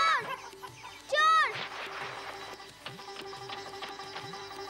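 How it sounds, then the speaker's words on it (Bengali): Chickens cluck and a rooster-like call rises in a Bengali cartoon scene of a girl counting her hens, short clucks and one louder call over a steady background. "আমি মুরগিগুলা গুইনা দেখি,"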